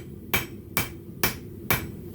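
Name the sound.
club hammer striking metal while smithing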